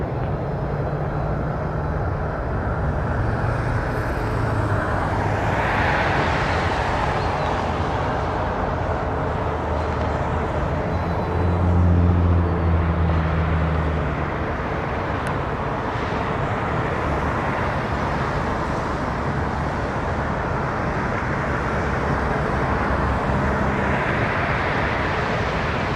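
An Airbus A220 airliner at Toronto Pearson airport gives a steady, fairly loud jet roar that swells slightly around the middle and holds for the whole stretch, with no voices over it.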